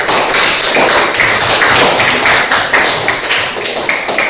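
A class audience claps for a student group named Safa after its presentation. The applause is loud, close and continuous through the whole four seconds, with no voices over it.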